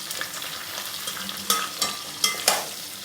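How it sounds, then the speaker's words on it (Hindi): Onions fry in hot oil for an okra sabzi, a steady close sizzle with scraping stirs and several sharp louder crackles toward the end, no voices. "तो सबसे पहले ऑयल गरम करके इसमें एज यूजुअल जाएगा प्याज को फ्राई करेंगे हम।"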